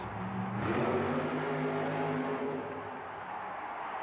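Ford-powered Thunderbird funny car making a drag run at a USHRA event in Saint Paul, 1991: a loud, sustained engine roar with harmonic whine that surges then slowly fades as the car pulls away.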